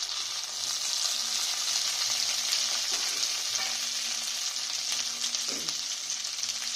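Steady, even sizzling of chopped tomato frying in a hot pan, continuous and close, with a few soft clinks of stirring.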